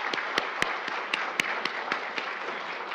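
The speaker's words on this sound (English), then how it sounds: "Let's give him a warm round of applause." An audience at an evening health lecture applauding the guest speaker, a physician: a soft, steady wash of many hands clapping from across the room, with a few sharper individual claps standing out, and no talking.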